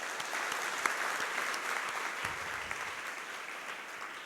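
A gathered congregation at a Bhagavad Gita recitation and study meeting gives a round of applause, heard as a soft, even wash of many hands clapping from a distance, steady for the whole stretch.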